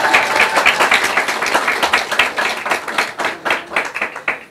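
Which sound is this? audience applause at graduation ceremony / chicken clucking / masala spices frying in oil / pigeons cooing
audience applause at graduation ceremony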